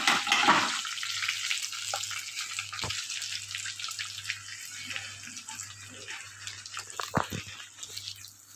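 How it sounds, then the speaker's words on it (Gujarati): Curry leaves, dried red chillies and white sesame seeds hitting hot oil for a tempering for Rajkot-style chavanu, a loud initial burst of sizzling that settles into steady crackling with a few sharp pops. "સફેદ તલ હાથમાં લઈ અને પછી એડ કરવાના વઘારમાં."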